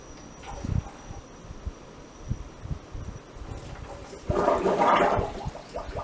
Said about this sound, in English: You can hear it filling up.